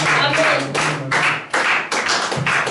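A church congregation at a worship service claps and cheers for Jesus Christ, a loud, continuous crowd of applause with voices, surging in several waves.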